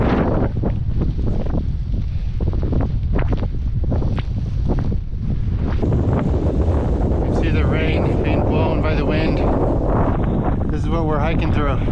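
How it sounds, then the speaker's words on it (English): Rain and strong wind on a cold, wet hiking trail in Iceland, with heavy gusts buffeting the microphone in a continuous loud roar that stays close and dominant for the whole stretch. "Look at this rain."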